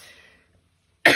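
A woman with a cracked rib gives a single sharp, loud cough close to the microphone right after a moment of near silence.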